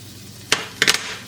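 Minced garlic cooking in a pan, heard as a few short, close bursts of scraping and sizzling as it is stirred, with quiet between them.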